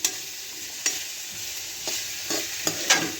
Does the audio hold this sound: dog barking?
no